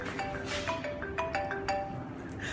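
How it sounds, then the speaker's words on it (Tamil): A mobile phone ringtone from an incoming call during a card trick, a bright melodic tone repeating in short rising phrases, fairly loud and close. "இப்போ உங்களுக்கு கால் வரும் பாருங்க"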